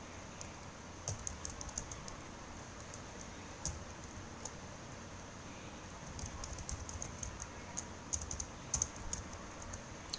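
Records being typed on a computer keyboard: a quiet, irregular run of light key clicks with occasional clustered bursts, close by and alone.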